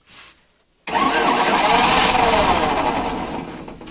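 A combine harvester's engine, left standing for a year, fires up after a brief cranking sound and a pause, then settles into a loud, steady, buzzing run that stays close and fills the rest of the moment without speech.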